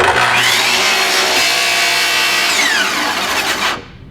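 A compound sliding miter saw cuts through wood for a Viking-style chair: a loud, steady, close whine and rasp of the blade in the board for nearly four seconds, then it cuts off abruptly.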